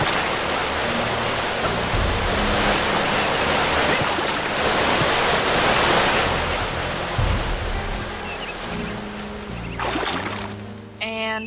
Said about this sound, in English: Here, of course, we have the obligatory video game waterfall with item hidden behind it.